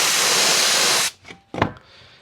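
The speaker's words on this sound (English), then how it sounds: "we're gonna spray the glue on the metal first" An aerosol can sprays upholstery glue onto metal in a loud, steady hiss for about a second, then stops, followed by a couple of short handling sounds.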